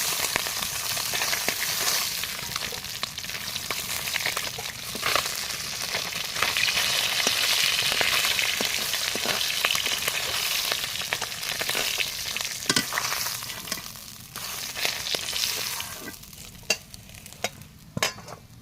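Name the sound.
fish frying in hot oil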